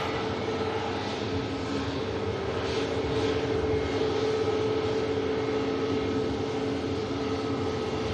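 Aircraft engine noise at Manchester Airport as a small airframe lands on the runway, a steady broadband roar with a constant drone lasting throughout, fairly loud and with no voices.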